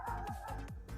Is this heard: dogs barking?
yes